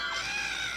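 Several people screaming in a Roblox Bloxburg movie: a sustained, shrill chorus of voices held steady for under a second, fairly faint and with no speech.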